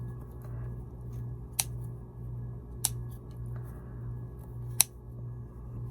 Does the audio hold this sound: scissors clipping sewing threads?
yes